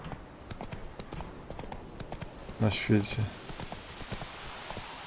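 Hooves of a horse clip-clopping at a trot through an open-world fantasy game, a steady rhythmic patter near and moderately loud, with someone talking over it.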